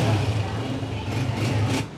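A 2008 Honda 125 motorcycle idles close by with a steady low, throbbing engine note and a slight rise near the end, with no talking over it.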